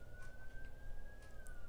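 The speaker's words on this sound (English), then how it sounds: "I'm hearing the sirens go around." Siren passing outside, a single steady wailing tone that holds and then slowly drops in pitch, moderately loud over background street hum.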